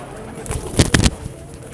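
A few soft pigeon coos cluster in a short burst near the middle at a pet shop, with faint background noise around them.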